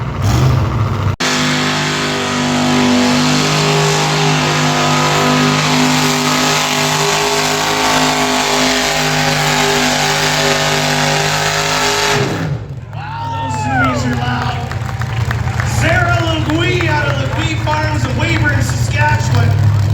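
Drag racing car at full throttle at a drag strip event, a loud sustained engine roar that cuts off and gives way to crowd and track noise, with an announcer talking over it.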